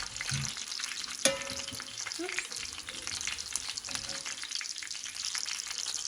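Crispy chicken flautas fry in hot oil in a pan, a continuous close crackling sizzle with a sharp utensil clink and brief bubbling shifts as they are turned.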